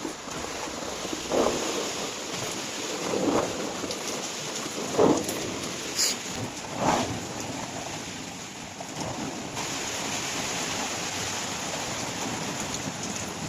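Typhoon winds and heavy rain lash the area during a power outage, a steady roar of rain and wind with gusts swelling and fading throughout, fairly loud and constant with no talking.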